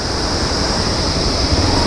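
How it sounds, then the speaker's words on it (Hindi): A loud, constant roar of rushing mountain river water on the Kedarnath pilgrimage trail fills the scene, steady and dense with no pauses or voices. "शोर सुनाई दे रहा, पानी का शोर।"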